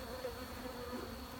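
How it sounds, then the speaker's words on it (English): Honey bees hum around an open hive during winter preparation, a continuous low drone with a steady tonal whine, close and fairly quiet, with no voices. "the bees are getting a little antsy"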